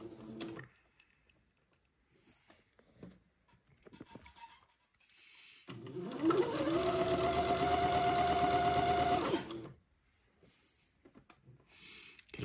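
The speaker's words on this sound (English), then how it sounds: "I will sew the cuff to the bottom of the gathered sleeve now." A domestic sewing machine runs in one steady burst of about four seconds, stitching a cuff onto the bottom of a gathered sleeve, with quieter handling noises of fabric and pins before and after.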